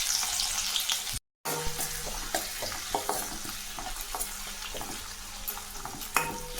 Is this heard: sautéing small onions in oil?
yes